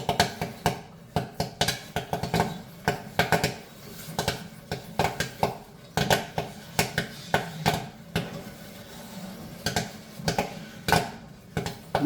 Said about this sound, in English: Now the stir is just getting the remainder of the kernels